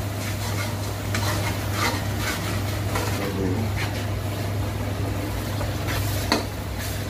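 Okra (bhindi) and tomatoes fry in a pan over low heat, giving a steady close sizzle broken by intermittent scraping strokes of a spoon stirring the mix.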